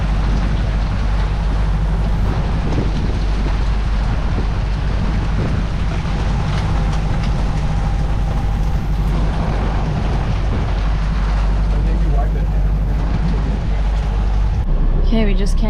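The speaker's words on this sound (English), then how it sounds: "Started pouring rain." Heavy rain drums steadily over a sailboat motoring into a marina after a Panama Canal transit, with a constant low engine and wind rumble underneath, loud and close throughout.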